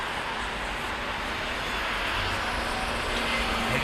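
A Boeing 787 Dreamliner airliner flies in, its engines a steady broad roar that swells slightly louder toward the end, heard alone.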